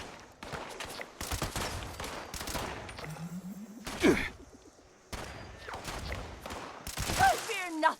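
Bursts of rapid video game gunfire scoring headshots, loud and near, broken by short pauses, with a voice talking over the shooting and scattered game sound effects between volleys.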